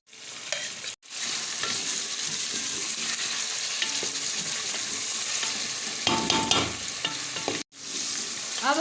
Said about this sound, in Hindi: अब हम इसमें ऐड करेंगे अदरक और लहसुन का पेस्ट।